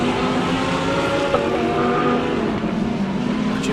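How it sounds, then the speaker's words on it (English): A Porsche race car accelerates out of turn 1 and 2 at Dezzi Raceway, its engine a loud sustained drone with steady rising harmonics, heard close and continuous throughout. "Porsche out of turn 1 and 2"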